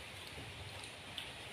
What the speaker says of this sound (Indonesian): Masih mau hujan lagi.